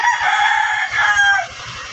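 Pumpkin-breed gamecocks on a farm crow loudly and close, overlapping calls running through the whole stretch, with low thumping or scratching sounds beneath.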